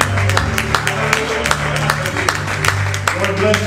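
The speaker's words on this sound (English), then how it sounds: "Let's give the Lord one more hand clap of praise." A church congregation claps in praise during a worship service, with rhythmic hand claps under a speaking voice and sustained musical tones.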